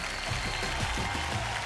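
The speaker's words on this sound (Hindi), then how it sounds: "अभय सिन्हा जी के लिए जोरदार तालियां हो जाएं" Applause for film producer Abhay Sinha at a Bhojpuri comedy event, a wash of crowd clapping blended with what sounds like background music, loud and continuous throughout the short stretch.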